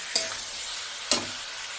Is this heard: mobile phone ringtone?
no